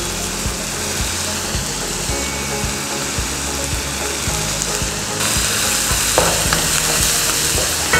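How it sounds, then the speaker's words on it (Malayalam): Onion, ginger, garlic and green chillies frying hard in hot oil on high flame for a home chicken curry: a loud, steady sizzle with regular stirring scrapes, growing louder partway through. "അപ്പോൾ ഈ സവാളയും ഇഞ്ചിയും വെളുത്തുള്ളിയും പച്ചമുളകും എല്ലാം ഒന്നിച്ച് പാകത്തിന് മൂത്ത് കിട്ടും."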